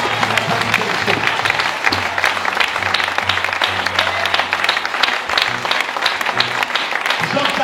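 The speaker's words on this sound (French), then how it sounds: "Maintenant, acclame le Seigneur." A church congregation applauds the Lord in a dense, continuous wave of clapping. Voices mingle with the applause, which stays loud and steady from start to finish.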